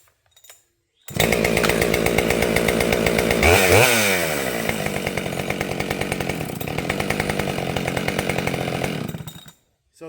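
A Husqvarna 572XP chainsaw starts after a brief pause and runs loud and close at high idle, with a sweeping pitch change early on before settling into a steady, rattling drone that cuts off abruptly near the end.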